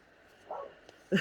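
A dog barks twice in the distance, a muffled yip followed by a sharper bark, against a quiet background.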